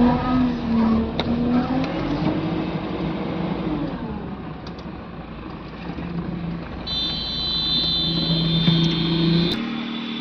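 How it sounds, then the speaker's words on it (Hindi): Diesel engine of a Mahindra Xylo D2 with a stalling fault, running with a steady hum that shifts in pitch and then holds a higher steady tone, recorded close with no talking. "गाड़ी स्टार्ट हुई।"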